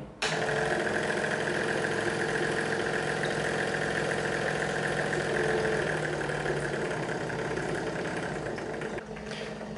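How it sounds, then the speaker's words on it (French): A laboratory apparatus's refrigeration circuit runs during a para-anisidine synthesis setup, giving a loud, steady, continuous mechanical hum with a broad rumble that holds unchanged before dipping slightly near the end. "Activons les circuits de réfrigération de l'appareil."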